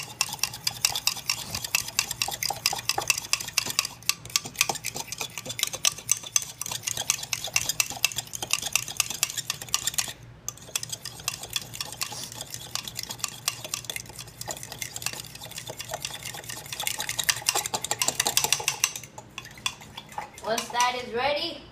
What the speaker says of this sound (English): Now we stir with a fork.